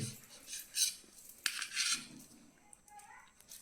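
A knife slices rolled aluvadi into round pieces, giving a few soft, scraping cuts and light taps of the blade against a board, close and fairly quiet, with no voices.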